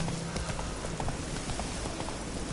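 Hooves of Roach, a horse in a video game, clip-clop at a steady gallop, close and continuous with a soft rushing background.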